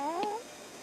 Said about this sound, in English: That's a cat, Wumpy.